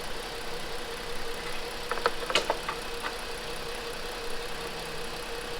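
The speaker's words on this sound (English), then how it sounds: "And with our engine running," A 2016 Ford Explorer engine idles with a steady low hum, a few light metallic clicks and taps coming through near the middle as the transmission dipstick is handled.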